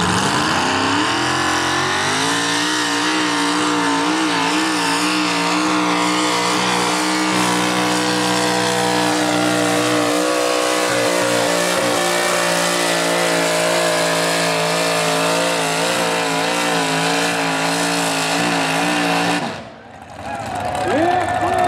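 A naturally aspirated, alcohol-injected 4WD pulling truck engine at a fair roars loud and sustained, holding high revs with wavering pitch for about twenty seconds before cutting off abruptly.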